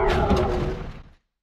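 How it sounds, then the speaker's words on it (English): Layered tire squeals shaped into a howling sound effect: a dark, sustained roar-like howl with a tonal whine, holding for about a second before fading to silence. "But with the howling, which sounds like this by itself,"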